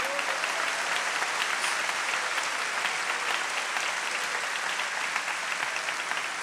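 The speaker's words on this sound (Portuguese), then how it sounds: "Pode dar um aplauso mesmo a Ele." Congregation at an evangelical church service applauding, a dense steady wash of many hands clapping throughout, loud and continuous with no talk over it.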